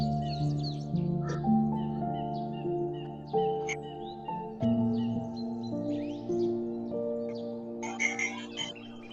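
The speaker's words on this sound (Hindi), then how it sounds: "चिड़िया की आवाज" Birds chirping outdoors in nature, several short, varied calls and tweets scattered over a sustained musical drone of tones, fairly close and clear, with no talking.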